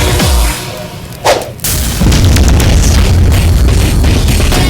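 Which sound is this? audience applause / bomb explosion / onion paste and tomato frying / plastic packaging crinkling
bomb explosion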